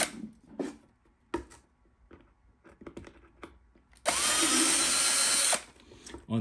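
A power drill with a 3mm bit bores a vent hole in a filament dry box, giving one loud, sustained whine of about a second and a half, preceded and followed by scattered handling clicks and taps.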